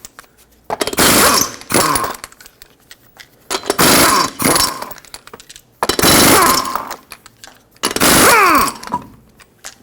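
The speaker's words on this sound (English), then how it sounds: "Use a 21mm socket, remove all 5 lug nuts, and then we can pull the wheel off." A power tool with a 21mm socket removes the wheel lug nuts on a 2006-2010 Hyundai Sonata, producing four loud, close bursts of rattling impact noise separated by short pauses.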